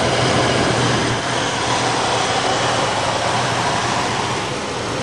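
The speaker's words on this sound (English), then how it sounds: "Sure does have a good exhaust system." A Thunderbird car engine runs after sitting for five years, giving a steady, loud, close exhaust roar that holds evenly throughout without talk.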